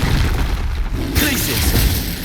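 The Expelliarmus spell goes off in Hogwarts Legacy with a loud magical whoosh and bursting, shattering crack, close and full, with a voice heard over it.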